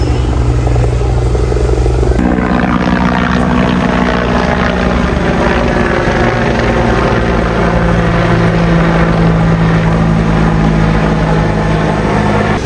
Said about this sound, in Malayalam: ഒരു പ്ലെയിൻ പോകുന്നുണ്ട്, കാണുന്നില്ല,